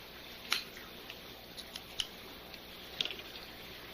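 A Drew Estate Java Red cigar is snipped with a cutter: a few short, crisp clicks close by, spaced irregularly, over a quiet background with no talk.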